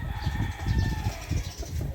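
Chickens on a Filipino backyard farm cluck and crow in a steady, busy chorus, with harmonic calls layered over low-pitched clucking and ambient noise from the flock, close and continuous.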